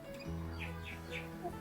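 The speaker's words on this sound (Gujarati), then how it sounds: "પોપટ ને કાબર બેય બોલે છે" A parrot and a myna call from inside a peepal tree, giving three short, bright chirps at moderate distance over a steady low background hum.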